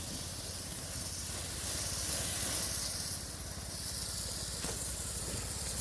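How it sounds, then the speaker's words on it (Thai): Pesticide sprayer nozzle misting over chili plants, a steady close hiss of spray lasting throughout with slight swells in strength, over a low engine-like hum and no talk. "นี่ครับวิธีฉีด ฉีดไปทีละสองหลองครับ"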